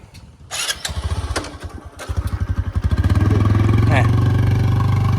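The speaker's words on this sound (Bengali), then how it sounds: "মামুর বাইকে করে চলে যাব।" A motorcycle on a village outing is kicked over nearby in a few rapid chugging bursts, then catches and settles into a loud, steady idle.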